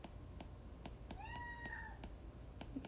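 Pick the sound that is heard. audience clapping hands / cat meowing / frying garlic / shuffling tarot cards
cat meowing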